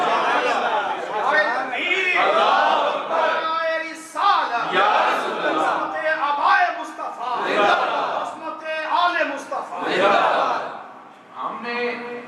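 A large gathering at a religious address chants slogans in loud, overlapping waves of massed voices and shouts, rising and falling across the whole stretch with brief lulls between bursts.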